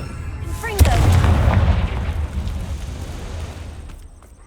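A Confringo spell explodes in the video game Hogwarts Legacy, a loud booming blast with a deep rumble that slowly fades over a few seconds.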